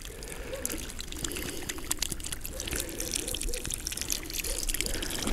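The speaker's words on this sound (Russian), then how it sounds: "Набираем полностью поливочную яму водой." Water is poured into a planting hole around a freshly transplanted conifer, a steady soft splashing and gurgling stream that runs throughout at close range.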